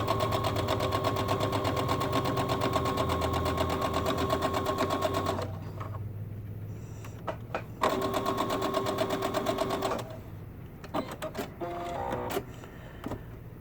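A sewing machine runs a straight stitch in a steady, fast mechanical whir for about five seconds, stops, then starts again for a shorter run, followed by quiet clicks and small handling noises nearby.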